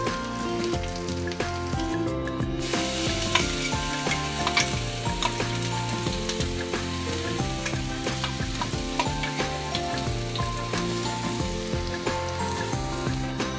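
Leftover chicken masala mix fries in hot oil for roadside-style Kerala chicken, making a steady, even sizzle like light rain that runs the whole time beneath continuous background music.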